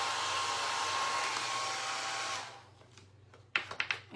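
A hair dryer blowing steadily on a Mod Podge–coated craft piece, a loud continuous whoosh that switches off after about two seconds, followed by a few light handling knocks.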